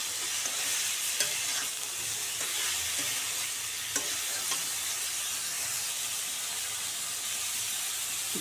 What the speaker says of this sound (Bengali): ভাজা হোক একটু।